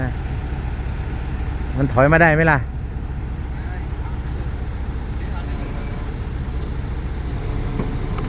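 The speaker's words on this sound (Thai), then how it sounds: "เอารถไถลงก่อน" A farm tractor engine idles steadily nearby, a low continuous rumble throughout, with someone briefly speaking over it early on.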